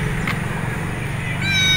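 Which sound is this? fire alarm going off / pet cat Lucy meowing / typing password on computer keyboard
pet cat Lucy meowing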